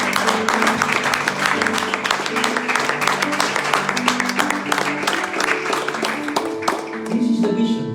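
A church congregation claps at a Sunday service: steady, dense, loud applause that carries on throughout, with a musical tone sounding underneath.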